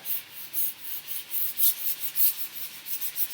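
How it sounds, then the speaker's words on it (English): A sanding block rubs back and forth over a chalk-painted kitchen cabinet edge to distress the finish, giving a steady series of close, dry scraping strokes in an even rhythm with no talking. "Put a little bit more pressure on your sanding block, and it's creating a distress finish here on the edge"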